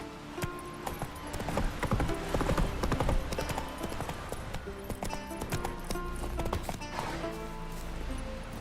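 Hooves of the horse Roach in the video game The Witcher 3 clip-clopping in a steady rapid galloping rhythm, moderately close, with a faint neigh amid the pounding beats.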